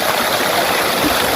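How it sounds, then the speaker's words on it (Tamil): A waterfall at a theme park in Perundurai, Erode, pours down in a loud, dense and unbroken rush of water heard up close, with no talk. "கீழே ஃபால்ஸில் நின்றுட்டுருக்கோம். அருவி ஃபால்ஸு."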